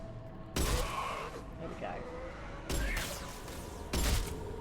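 Shotgun blasts in Mass Effect 2, three sharp loud booms spaced a second or two apart, each with a short decaying tail, among game effects and a brief spoken remark.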